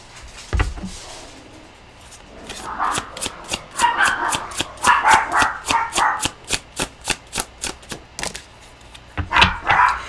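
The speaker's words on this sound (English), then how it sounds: "So I'm going to tell you what just happened when they started barking" Rapid, repeated barking from dogs, a steady run of sharp yelps building in intensity, with a short pause before a final burst.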